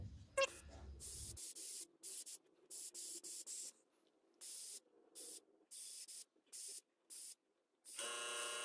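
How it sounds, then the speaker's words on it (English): Paint sprayed with an airbrush through the fine end of a comb and scale mesh onto a 70mm shallow-diving fishing lure, heard as a series of close, sharp hissing bursts of varying length separated by short silences. "He's spraying that through the fine end of a comb, through the scale mesh, across his shoulder."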